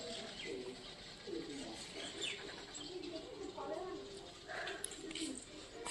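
Pigeons sitting in a row in the morning coo softly with scattered chirps from other birds, the calls faint and somewhat distant over a quiet outdoor background.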